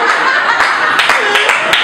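Audience in a bar comedy show applauding, a short burst of scattered claps mixed with laughter, close and lively.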